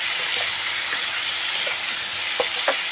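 Cauliflower and fish sizzle steadily in hot oil in a pan, a continuous frying hiss with a few soft stirring clicks near the end.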